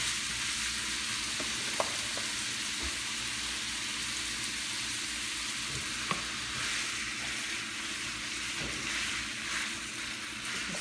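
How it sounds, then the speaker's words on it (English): Food for nachos sizzles steadily in a frying pan, a continuous hissing fry with a few light clinks and stirs, no voices heard. "So guys, I'm gonna brown this"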